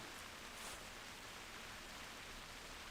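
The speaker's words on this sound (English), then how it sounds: "The animals hear less because of the rain noise" Steady rain falling in the hunting game theHunter Classic, a soft, even hiss of drops with no other sounds.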